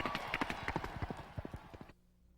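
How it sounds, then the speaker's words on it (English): Horses galloping in an ancient chariot race, heard as a rapid run of loud, close hoofbeats in a steady rhythm that cuts off abruptly near the end. "his horses ran wild across the course"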